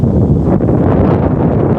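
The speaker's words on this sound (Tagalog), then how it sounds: "Crosswind right to left." Steady right-to-left crosswind buffeting the microphone on a golf course, a loud low rumble with rustling texture throughout, no voices.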